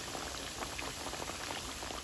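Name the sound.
breaded chicken frying in oil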